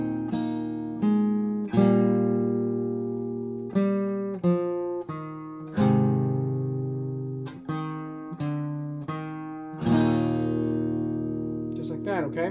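An acoustic guitar with a capo plays a song's chord pattern, plucked notes and strummed chords ringing out one after another, close and clear, with no talking.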